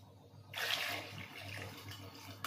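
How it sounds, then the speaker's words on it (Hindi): Water pours into a pot of amla (Indian gooseberries) as a steady splashing stream, starting abruptly and running for about two seconds at close range, quiet overall. "मैं थोड़ा पानी और ऐड कर रही हूँ इसमें।"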